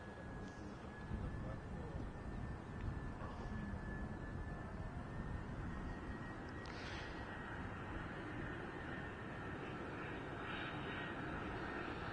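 A Brussels Airlines airliner at Brussels Airport gives a continuous broad jet roar with a steady high engine whine, filling the scene at moderate distance while someone speaks faintly over it.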